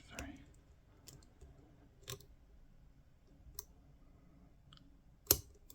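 Faint, sparse clicks of lock pins under a pick, scattered single ticks spaced unevenly over a quiet background, one sharper click near the end.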